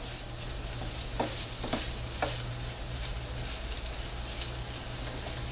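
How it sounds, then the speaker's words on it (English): Corned beef hash simmering in a pan as it is mixed, a steady soft sizzle throughout with a few faint scrapes of stirring, close and moderately quiet. "We're going to mix this in. We're going to let it kind of simmer a little bit."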